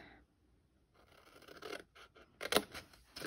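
Scissors cutting down the card sides of a stamped black-and-gold craft project, brief crisp snips and scraping cuts that grow busier toward the end, close up, with no talking.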